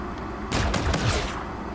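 Burst of Volk rifle fire in Call of Duty, a short cluster of loud rapid shots lasting under a second before trailing off, with no talking.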